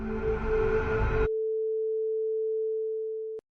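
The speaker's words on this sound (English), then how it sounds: "And as it hits here, you're going to hear that sine wave." A steady pure sine-wave tone from a signal generator sustains alone after music cuts off abruptly, holding for about two seconds before ending with a small click.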